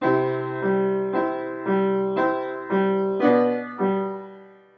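A piano plays a measure of a song, a string of full sustained chords struck one after another at an even pace, each ringing and decaying before the next, with the last fading out.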